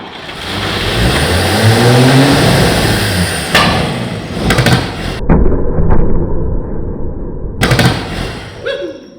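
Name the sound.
engine starting and revving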